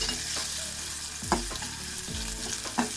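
Chopped onion and garlic frying in soybean oil, a steady close sizzle with occasional louder pops and stirring scrapes, no talking.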